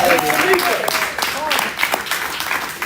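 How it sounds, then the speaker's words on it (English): A rally crowd gives a round of applause at a town hall, a short burst of clapping and cheering mixed with a voice talking over it. "Let's give Until Freedom a round of applause."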